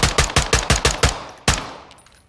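An LSA TX-15 DML rifle in Call of Duty: Modern Warfare II is tap-fired semi-automatically in a rapid string of about seven loud, punchy shots, then a pause and one final shot with a decaying tail.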